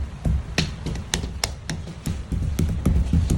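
Low, dull thumps from hitting a wall or stomping, a rapid irregular series of close, heavy knocks with bassy weight continuing throughout, no voices.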